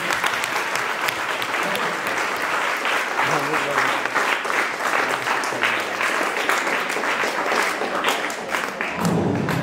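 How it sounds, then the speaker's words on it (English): A Class VII classroom audience claps for a student during a chemistry debate, dense and sustained clapping from many hands with a few voices mixed in, cutting off just before the end. "Please clap for him."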